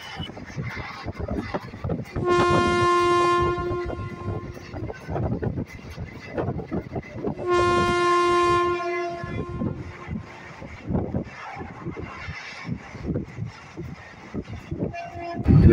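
Katwa–Azimganj local passenger train rolling along in West Bengal, with a steady rumble from the carriages and two long, loud horn blasts a few seconds apart.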